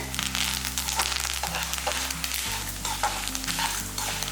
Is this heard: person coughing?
no